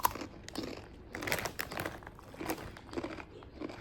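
A bag of volcano Takis torn open and handled indoors, close-up crinkling and crunching of the snack packaging in irregular bursts, fairly quiet.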